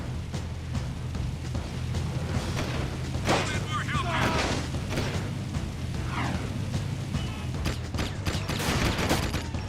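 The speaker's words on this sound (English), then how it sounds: "I need to shoot your compatriots" Gunfire from Jak 2 combat, a dense spray of shots and booms under continuous game noise, with bursts clustered around the middle and end and a voice talking over it.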